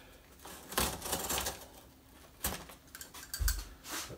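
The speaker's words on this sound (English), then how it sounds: "You're going to want to use a nice utility knife with a sharp blade." A sharp utility knife slices through packaging material for shipping a painting, making close, scratchy cutting strokes in several bursts, with crinkly rustling and a few thuds in between.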